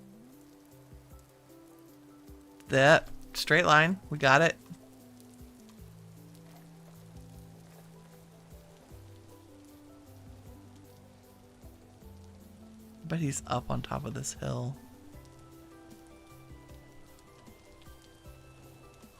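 Rain in the video game Vintage Story falls as a soft, steady patter under gentle game music, with a person talking in two short bursts.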